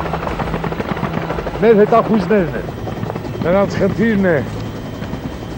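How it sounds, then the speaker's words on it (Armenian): A helicopter drones steadily in the distance through a battlefield scene with air-defence fire, a low continuous rotor hum running under two stretches of someone talking. "այ հեռվում տեսնում ես ուղղաթիռը"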